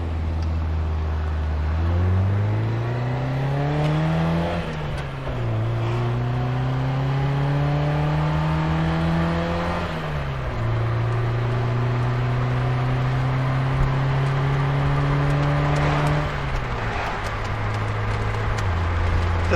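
A 1964 Triumph Herald cruises in overdrive at about 60 mph, its engine droning steadily with a few audible shifts in pitch, heard close from inside the car with no talking.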